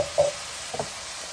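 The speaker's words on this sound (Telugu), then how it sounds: "ఉల్లిపాయలు తొందరగా వేగడం కోసం కొద్దిగా ఉప్పు వేసుకున్నాం" Onions fry in a pan with a little salt, giving off a faint, steady sizzle. Two soft knocks from stirring break through, with no talking.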